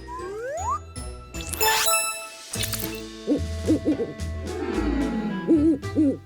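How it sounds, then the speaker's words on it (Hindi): An owl hoots several times at night, clear and fairly close, alongside chiming jingles and other playful effects in a cartoon-style scene. "ये तो सिर्फ एक उल्लू है, फिक्र मत करो।"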